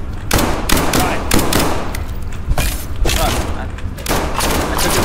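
Gunfire in the video game SCP 5K, sustained bursts of loud shots rattling in rapid clusters over about five seconds, with voices talking in the background.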